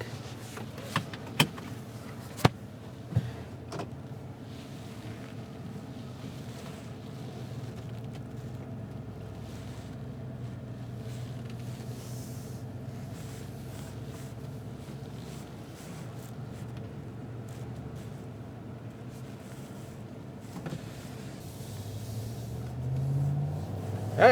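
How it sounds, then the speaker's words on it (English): An RV driving on a quiet country road, giving a low steady engine and road rumble inside the cabin, with a few sharp clicks and knocks early on and a rise near the end. "Let's go take a drive around the block."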